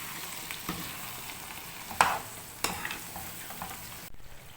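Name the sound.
meat being cooked in a pot with yogurt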